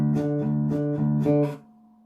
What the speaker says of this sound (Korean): 어떤 하모닉스 소리가 계속 지속이 되면 다음 연주하는 구간에 방해되는 소리가 되겠죠